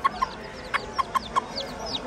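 A hen at a Bursa chicken market clucks in a series of short, sharp calls, with chicks present and a busy outdoor market hum behind, no talking.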